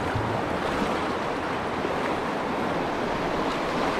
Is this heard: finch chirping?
no